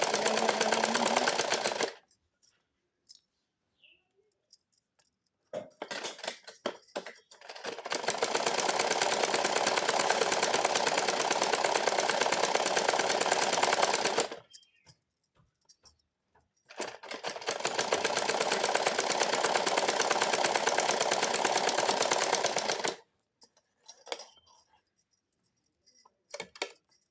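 A sewing machine stitches fabric for a matka-style neckline in two long, loud, steady runs of close rapid stitching, each followed by clicks and near-silent pauses, with a short burst at the start and quiet handling at the end.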